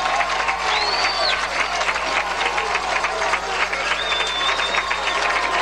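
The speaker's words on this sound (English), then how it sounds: "with the Northeastern crowd right here in front of us, it sure sounds like it's loud" High school football crowd cheering and clapping in the fourth quarter of a game against Northeastern, a loud continuous roar of applause with a few whistles carrying above it.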